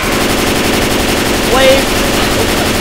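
Continuous rapid gunfire in Left 4 Dead 2, a dense, loud rattle filling the whole stretch with a brief shouted voice rising over it midway.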